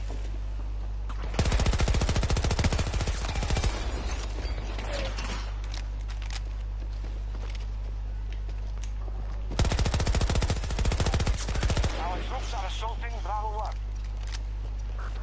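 Two loud rapid-fire bursts from a Glock 18 pistol in the Battlefield shooter, each lasting a couple of seconds, separated by quieter battlefield ambience.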